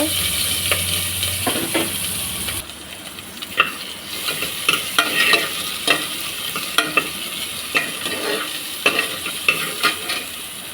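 Oil sizzles steadily as onions and green chilies fry, with a brief louder burst at the start and occasional scraping stirs and clinks throughout.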